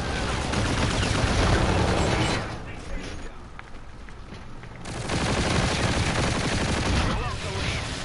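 Dense automatic gunfire rattles through a Call of Duty: Infinite Warfare multiplayer match, loud and continuous, dipping briefly in the middle before the bursts resume. A player talks under it.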